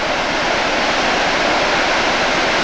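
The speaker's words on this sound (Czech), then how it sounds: "A tenhle vodopád je zatím nejmohutnější a nejkrásnější, jaký jsme v Norsku viděli." Powerful waterfall in Norway crashing into a rock basin, a loud, steady, close roar of falling water with broad rushing noise and no pauses or voices.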